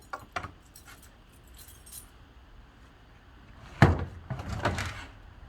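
Keys jangle and clink in a lock before an RV side compartment opens with a sharp clack and rattling, close and clear with no talking.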